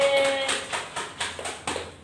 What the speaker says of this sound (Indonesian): Silakan tepuk tangan untuk Nadira